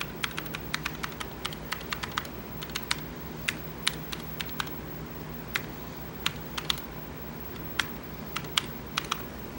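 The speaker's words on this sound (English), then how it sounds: "And then you type in the address of the bulletin board." Steady rapid keystrokes on a computer keyboard entering a dial command and bulletin board address, crisp clicks in irregular bursts, close and alone with no talk.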